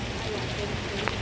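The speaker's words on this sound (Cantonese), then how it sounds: "落雨落得幾密，好在有個亭喺度避雨" Dense rain falls steadily around a trail pavilion on a Tuen Mun hiking path, a constant close hiss with a few spattering drops.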